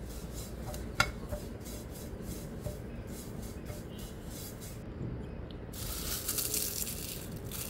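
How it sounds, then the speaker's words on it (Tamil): Curry leaves roast with salt in a pan, producing a steady dry rustling sizzle and scraping that runs throughout, loud and close, with a brief metallic clink near the start and no talking. "இது கொஞ்சம் உப்பு கொஞ்சம் போட்டு கருவேப்பிலையை நல்லா போட்டு வறுக்கணும்."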